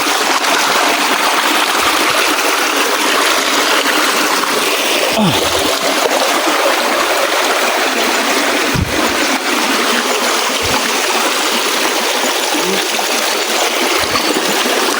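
A fast-flowing stream rushes steadily outdoors, a loud, broad, unbroken wash of current with occasional small splashes and thuds, with no talk over it.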